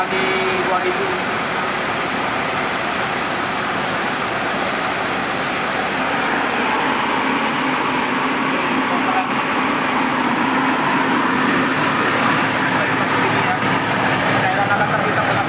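Suzuki Vitara engine held steady at 2000 RPM while driving slowly, a continuous moderate hum under road and cabin noise, with a person talking over it.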